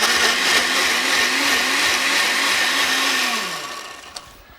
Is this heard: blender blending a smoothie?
yes